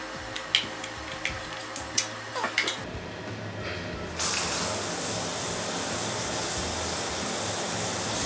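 A mist shower head sprays water in a steady, fairly loud hiss that starts abruptly partway through, after a few light taps and handling clicks.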